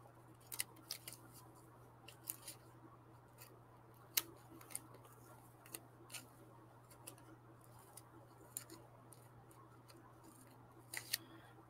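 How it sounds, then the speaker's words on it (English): Scissors snipping a sticker close by, a run of quick, sharp little cuts at irregular intervals over a steady low hum. "I like scissors better than a knife."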